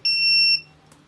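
A social distancing device sounds its alarm when someone comes within about a meter: one sharp, loud electronic beep lasting about half a second, close by, followed by quiet.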